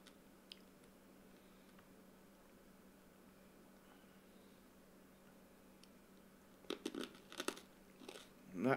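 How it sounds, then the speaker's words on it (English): Near the end, close crunching of a hard cough lolly being chewed comes in several quick bursts after a long stretch of quiet background hum. "And that crunching that you hear is actually just a cough lolly."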